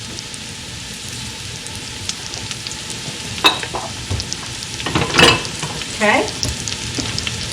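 Onions sweat with salt in a pan, giving a soft, steady sizzle with a few scraping stirs and clinks in the middle; one brief spoken word is heard.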